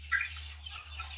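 Fowl calling in a short throaty burst and then a softer trailing cluck, set over a constant low hum, fairly close and with no one speaking.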